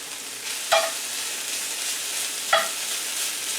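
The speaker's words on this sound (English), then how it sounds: "The onions and the peppers are getting a little cooked up." Onions, peppers and chopped cilantro fry in a pan with a steady, close sizzle, broken by two brief scraping stirs of a utensil; no one speaks.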